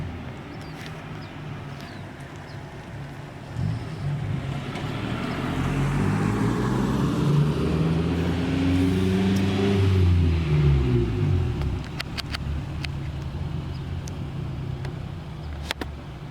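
A car pulls up nearby, its engine swelling into a loud revving pass with shifting pitch, then settling back to a steady idle against outdoor background noise.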